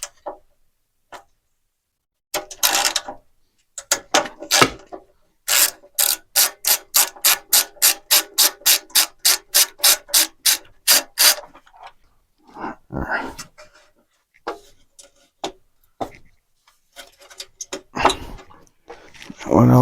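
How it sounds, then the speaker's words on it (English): A ratchet wrench loosens a 10 mm bolt on a cheap generator's cover: a long, even run of sharp, close clicks from the pawl, with short bursts of speech before and after. "let's get this 10 mil off"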